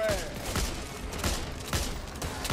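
Desert Eagle pistol shots in the video game Back 4 Blood, roughly four heavy, evenly spaced reports over a busy game background.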